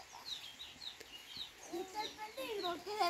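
A hen clucking among her chicks outdoors, with repeated short clucks and high peeping chirps from the chicks, moderately close, while a person talks over them.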